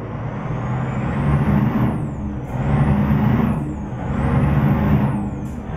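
Scania truck engine in Euro Truck Simulator 2 roaring steadily and loudly, swelling and easing in three slow waves as revs rise and fall, with a high whine tracing each cycle and no talking.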